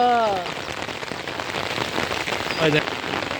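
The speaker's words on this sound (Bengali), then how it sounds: "দেখেন তো দেখেন কত বৃষ্টি হ্যাঁ দেখেছ অনেক বৃষ্টি" Rain pours steadily onto a village road, a continuous broadband hiss of drops close by, with a brief voice-like tone at the start and another faint one near the end.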